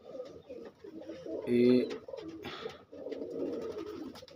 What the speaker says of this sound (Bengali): চারিদিকেই পায়রা আছে।